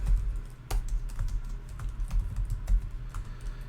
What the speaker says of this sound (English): if I can type, and then give it a super secure password